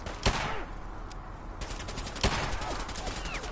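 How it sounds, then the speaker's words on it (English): Rapid bursts of submachine gun fire from Valentine in Fallout 4, sharp repeated shots over a dense, noisy game battle with scattered louder cracks. "I think Valentine might waste a little bit too much ammunition with that SMG of his"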